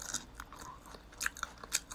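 Close-up chewing of food with bones, wet smacking and crunchy bites in irregular bursts, some sharper clicks standing out, with no talking.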